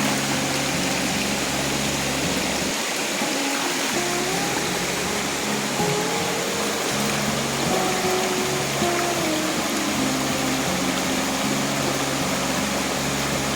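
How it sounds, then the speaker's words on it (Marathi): A river flows strongly during black crab catching, a loud, continuous rushing roar of water that fills the whole scene, with faint tonal sounds drifting over it. "नदीच्या पाण्याला व्हाव पण खूप आहे."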